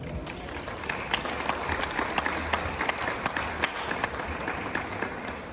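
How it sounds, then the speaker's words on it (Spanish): An audience applauds at a book launch with dense, steady clapping and scattered sharper individual claps standing out, sustained for several seconds with no talking. "un aplauso, por favor"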